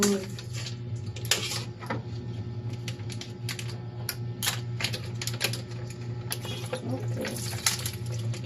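Fresh anchovies (dilis) rinsed with vinegar and water for ginamos, with clattering dish and splashing sounds, a steady low hum underneath and a brief spoken word.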